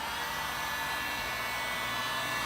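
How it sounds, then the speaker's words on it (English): A Harbor Freight heat gun running on high while heating a 2014+ GMC Sierra headlight, a steady broadband blowing roar like a hair dryer, close and constant with no talking. "using my trusty Harbor Freight heat gun on high, heat the headlight all around in continuous motion"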